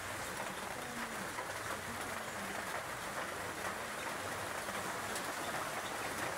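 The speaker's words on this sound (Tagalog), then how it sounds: "Lakas umulan." Steady heavy rain pours down without pause over a compound, an even broadband hiss of drops on surfaces filling the whole stretch at moderate level, with no clear voices.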